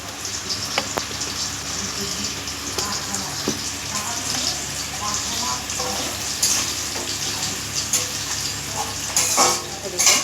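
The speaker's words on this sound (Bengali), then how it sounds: "কড়াতে যে তেলটা ছিল তাতে আলু ভাজার ছোটো একটু বড় বড় আলু কেটে নিয়েছি, বেশ লাল লাল করে ভাজা হয়ে গেছে" Potatoes cut into fairly large pieces fry in oil in a kadai until reddish-brown, giving a steady broadband sizzle throughout with occasional brief clinks and stirring sounds, with no talk.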